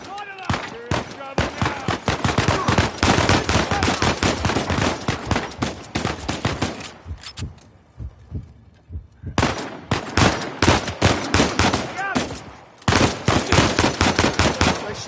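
Loud automatic gunfire from a PS4 shooter game comes in rapid, dense bursts, drops into a short lull midway, then resumes just as hard. A voice speaks briefly under the shots.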